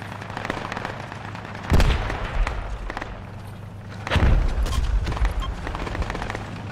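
Two loud, close gunshot bursts from Project Reality, the military shooter, each with a sharp crack and a rolling low boom, set against a steady background rumble with no talking.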